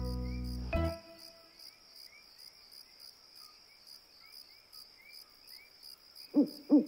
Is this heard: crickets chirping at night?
yes